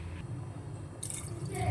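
Thin cooking water from boiled dal poured into thick, simmering sambar in a kitchen pot, a soft continuous liquid splash and trickle at close range, rising slightly toward the end.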